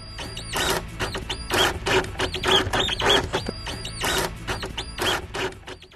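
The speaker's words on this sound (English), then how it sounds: "if you're going to use a screw gun, don't go all the way in, because these screws are more fragile" Screw gun driving stainless steel screws, a series of loud bursts of whirring motor and grinding bite, short pulses starting and stopping in an irregular rhythm, close by, with no speech.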